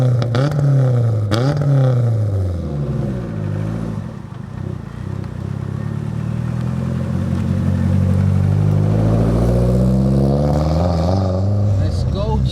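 A 500bhp Toyota Celica GT-Four rally car drives off with a loud, close engine note that drops, then climbs through rising revs, while people talk over it.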